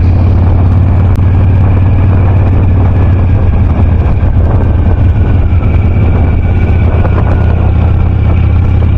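A 2006 Harley Davidson Sportster with a 1200 kit riding along, a loud, continuous low engine drone heard from on the bike, with heavy wind rush over the microphone.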